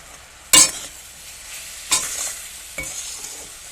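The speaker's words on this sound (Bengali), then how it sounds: "আমলকিগুলো দিয়ে দেবো হালকা আছে নাড়তে থাকবো" Amla (Indian gooseberries) stirred with turmeric and salt in a pan, giving three separate scraping strokes, the first loudest, over a faint background sizzle.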